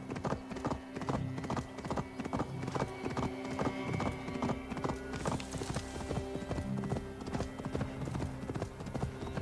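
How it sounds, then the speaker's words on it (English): Horse hooves gallop in Assassin's Creed Valhalla, a fast continuous clip-clop rhythm, loud and close throughout, with a steady game soundtrack underneath. "I do like this new horse we got though."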